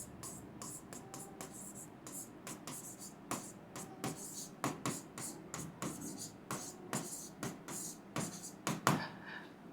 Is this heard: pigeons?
no